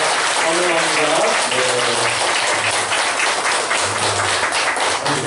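A church congregation claps to welcome newcomers during a Sunday worship service. Dense, steady applause fills the room throughout, with a voice and low tonal sounds running beneath it.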